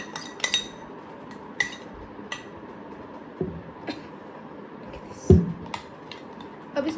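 Spoon clinking and scraping against a bowl while masala is mixed into cream, with scattered light metallic taps and one sharper knock, close and moderately quiet, no talking.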